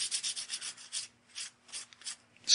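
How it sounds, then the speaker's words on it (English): Varnished watercolor paper is sanded lightly with 400 grit sandpaper: close, soft scratchy rubbing strokes in a quick back-and-forth rhythm, pausing and then resuming in short bursts. "I'll just very lightly with 400 grit sandpaper,"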